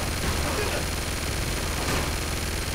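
Dense, continuous gunfire in the video game Uncharted 2, a steady wash of rapid shots with no clear gaps, loud and close throughout.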